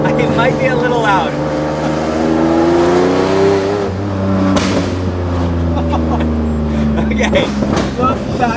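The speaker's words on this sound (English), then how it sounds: "The backfires are insane." A Lexus LFA engine revs loudly nearby, its exhaust crackling with sharp pops and bangs as the pitch rises and falls.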